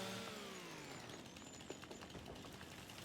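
Chainsaw cutting down a tree in Farming Simulator 25, a faint, steady mechanical whine that slowly falls in pitch over about three seconds, with a small knock partway through and no voices.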